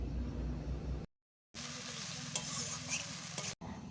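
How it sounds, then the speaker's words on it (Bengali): Ginger garlic paste fries with onion and tomato for a duck egg dish, giving a close, steady sizzle with stirring scrapes and a short silent gap. "আদা রসুন ভালোভাবে ভেজে নেব।"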